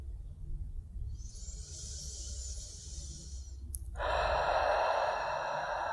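Deep breathing during a yin yoga session: a soft, long inhale through the nose followed by a louder, fuller breathy exhale, close and alone with no talk.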